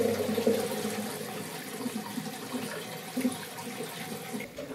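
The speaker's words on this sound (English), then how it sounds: "So then we have the different button to flush our urine." A urine-diverting toilet runs a small flush of about half a liter of water, giving a steady rushing and gurgling wash that lasts the whole stretch and fades slightly near the end.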